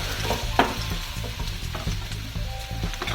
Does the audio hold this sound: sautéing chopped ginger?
yes